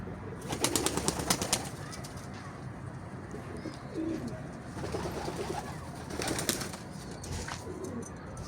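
Young Mardin pigeons and postal pigeons cooing and flying at an evening flight session, with a few bursts of wing flapping and soft cooing over steady ambient noise, fairly close.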